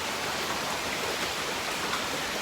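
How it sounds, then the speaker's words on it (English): Rain falling outside in a home garden, a steady even hiss of drops on surfaces that fills the whole stretch without pause, close and moderately loud with no talk. "I don't know if you can hear, the rain has started."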